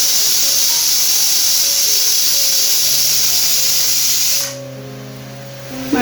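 Steam hisses steadily and loudly from a pressure cooker with its lid resting loosely on top while beef braises inside, then cuts off abruptly, leaving quieter kitchen sounds with a faint tone.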